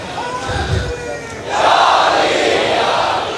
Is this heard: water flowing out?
no